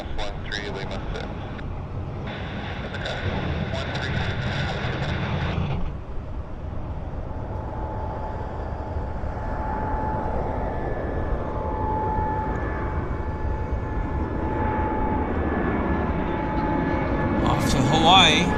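An airliner takes off at Vancouver Airport, its jet engines a steady roar that slowly builds and grows louder over the clip, heard from a distance with someone talking over it.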